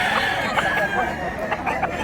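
Rooster offered for sale, giving short clucks and crowing calls close by while people talk over and around it.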